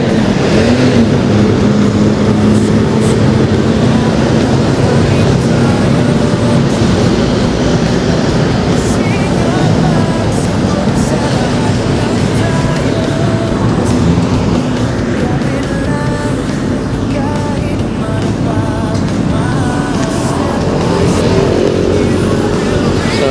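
Dense, continuous road traffic roars past on Mindanao Avenue on a Sunday, loud and close throughout, with passing engines blending into a steady wash.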